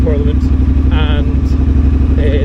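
Triumph motorcycle engine rumbling steadily while riding through city streets near the Scottish Parliament in Edinburgh, a continuous low throbbing note held fairly quiet, with brief higher tonal bursts over the top.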